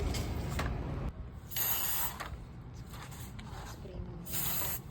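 Coffee cup lids are spray painted black, with repeated hissing bursts of the spray can separated by brief pauses, fairly close and not very loud.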